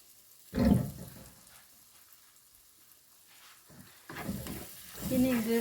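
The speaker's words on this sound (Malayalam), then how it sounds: "വഴന്ന് എണ്ണയൊക്കെ തെളിഞ്ഞ് വരട്ടെ" Masala with blended tomato sautés in oil in a pan for a fish curry. Close, intermittent bursts of sizzling and stirring scrapes are separated by quieter gaps.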